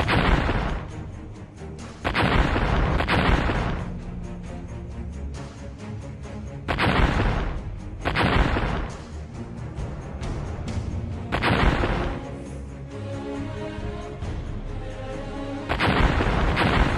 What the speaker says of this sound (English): Here is a free airstrike.